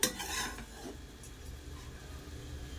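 Grated coconut fried and stirred in a pan until light golden gives a faint scrape of a spoon against the pan at first, then a soft low sizzle with occasional light rubbing, quiet and without talking.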